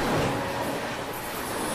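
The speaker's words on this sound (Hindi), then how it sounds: "सामने से आ रही है न्यू तिनसुकिया अमृतसर एक्सप्रेस" The New Tinsukia–Amritsar Express rolls in with a dense, loud, broadband roar of wheels and rail noise, steady and close, with a faint high squeal toward the end.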